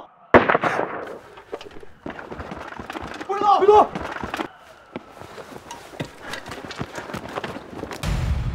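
An accidental gunshot goes off in a film scene, a sharp loud crack near the start, followed by scuffling movement, footsteps and voices talking.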